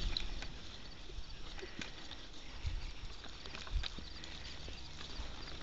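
A horse's hooves clopping at a trot on a hard ranch trail, fairly faint with some background hiss and a few sharper knocks.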